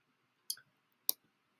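Two quick crisp key presses on a calculator, about half a second apart, close and faint against silence.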